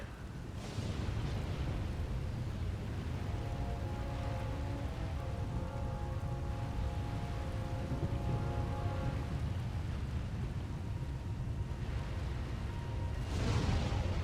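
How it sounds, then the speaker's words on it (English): Steady rain pours through a thunderstorm in Star Wars: The Old Republic, with low rumbling thunder and a swell near the end, alongside faint sustained musical tones in the background. "Looks like the storm's not letting up anytime soon"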